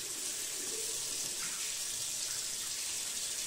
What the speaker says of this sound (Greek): πάμε λίγο να βρέξουμε τη λεπίδα